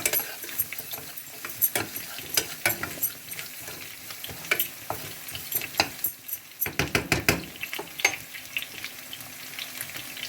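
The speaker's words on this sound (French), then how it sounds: "Je mélange le tout pour bien colorier mes oignons" Onions sizzle steadily in a pan with tomato, sugar and salt while a utensil stirs and scrapes in uneven bursts. A cluster of louder scraping knocks comes near the end, with no talking.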